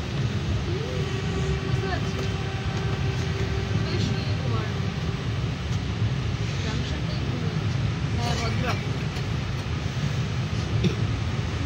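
The 22835 Shalimar–Puri Superfast Express runs at night, heard from inside the coach as a loud, steady rumble and rattle from the moving train. People talk over the noise.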